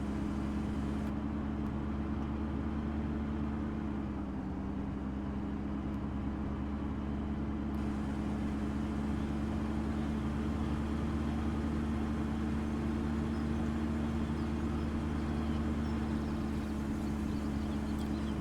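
Steady low hum of a tow truck engine idling and pulling out in Farming Simulator 17, continuous and even throughout with no talk.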